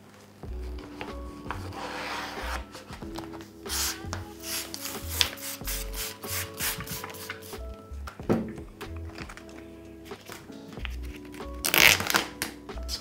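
Aquarium background foil for a 35-litre nano tank is cut roughly to size, a run of scissor snips, rubbing and crinkling of plastic film close up with scattered handling thumps.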